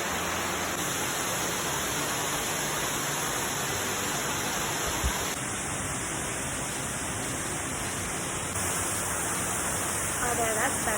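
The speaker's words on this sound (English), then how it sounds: "Here we are. Waterfalls." Waterfall on the Collins Gulf hiking trail between Suter Falls and Horsepound Falls, a steady broadband roar filling the whole clip, close and constant, with a faint voice beneath it.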